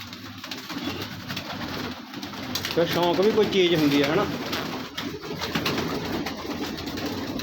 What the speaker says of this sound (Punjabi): ਕਬੂਤਰ ਦੇਖ ਲਓ ਉਸਤਾਦ ਦੇ ਆਪਣੇ ਦੇ